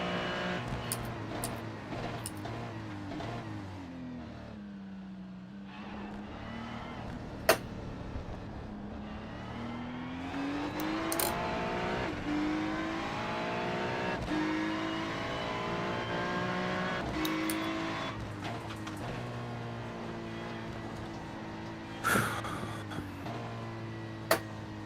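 A Ferrari 296 GT3 race car in iRacing at the Nürburgring 24 Hours, engine droning continuously from the cockpit and rising and falling through the gears, with a few sharp clicks and brief thumps scattered throughout.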